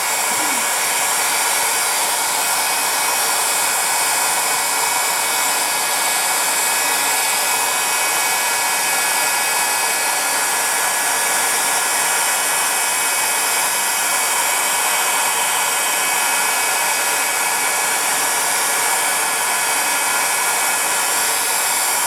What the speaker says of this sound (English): Now I'm going to be using a heat gun in replacement for a hairdryer